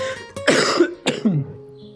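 Two harsh coughs, close and loud, separated by a short pause, with no talking.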